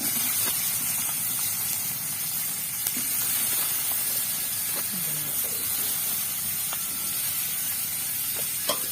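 Sliced onions frying in oil with curry leaves for doi aloo, a continuous hissing sizzle that holds evenly throughout, with occasional faint clinks of a spoon.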